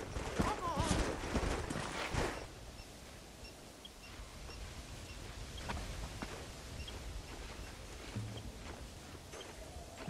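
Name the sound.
horses' hooves clip-clopping in Red Dead Redemption video game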